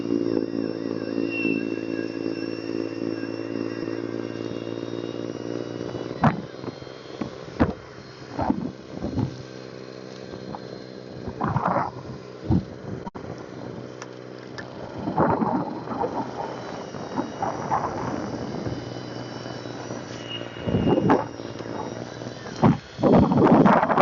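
Ryobi RY40870 two-stage snow blower clearing deep snow drifts in strong wind, a steady engine drone with a harmonic hum, broken by loud gusty buffeting bursts against the microphone throughout.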